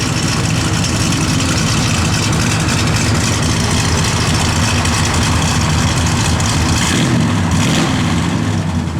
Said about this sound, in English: Good sound.